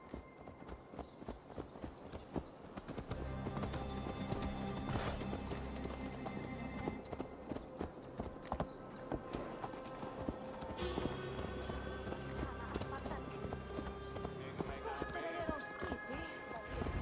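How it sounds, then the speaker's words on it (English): In Assassin's Creed Valhalla, a ridden horse's hooves clip-clop steadily and rhythmically over the ground, mid-loud and continuous, with game character dialogue spoken over it. "Let's return the horse."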